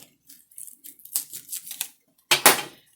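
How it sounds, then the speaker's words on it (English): A knife cuts through an onion on a cutting board, making a run of soft, close taps followed by one sharper, louder chop near the end. No one speaks. "I like to cut my onion right up the middle."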